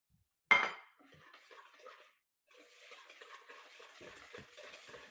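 A sharp clink of a whisk against a bowl, then soft, uneven scraping and stirring of chocolate beetroot cake batter, faint and close.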